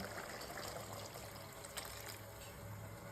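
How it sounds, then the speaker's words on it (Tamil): Soaking water left from mutton is poured into a bubbling pot of mutton gravy, a steady soft trickle and splash that runs throughout at low level with no voices. "இந்த நேரத்தில் ஆல்ரெடி மட்டன் ஊற வச்சு எடுத்த அந்த தண்ணி இருக்குது, அதை ஊற்றிக்கலாம்."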